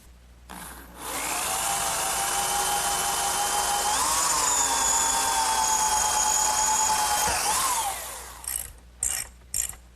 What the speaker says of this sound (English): Now I'll just drill the holes using a 1/4-inch drill bit.